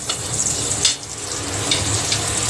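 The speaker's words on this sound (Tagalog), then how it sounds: "ay isasangkutya po natin ng konti ang sibuyas" Onions sautéing in a pan for paksiw sa gata, a close, loud, steady sizzle with brief bursts of stirring.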